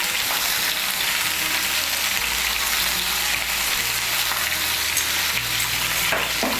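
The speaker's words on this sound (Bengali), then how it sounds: "নুনটাকে মিশিয়ে নেব" Vegetables with a slice of raw pumpkin are stirred with salt in hot frying oil, giving a loud, steady sizzle with continuous crackling and soft scraping of the stirring underneath, close and uninterrupted throughout.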